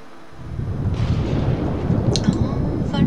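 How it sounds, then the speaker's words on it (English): Thunderstorm in the Sims 4 video game: a deep, continuous rumble of thunder with steady rain, rising after a quiet start and holding loud throughout, with some light bright crackles near the end. "Oh, thunderstorm."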